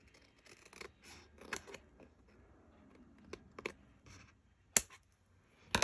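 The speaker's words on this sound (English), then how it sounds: "Might need a bit of trimming right here." Scissors trim paper on a craft project, an accordion pocket book, with a few short, crisp snips and small clicks spread across a quiet room, close and fairly faint.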